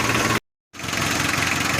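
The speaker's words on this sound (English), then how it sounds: "now I do believe the engine is warming up" A Mitsubishi 4D56 diesel engine idles while warming up, a steady close mechanical rumble with a faint knock, cut by a brief full dropout of silence before the idle resumes.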